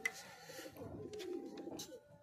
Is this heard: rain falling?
no